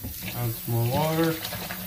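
Tap water runs into a sink to fill it with soapy water for washing a skateboard hat, a steady splashing flow heard beneath a person talking.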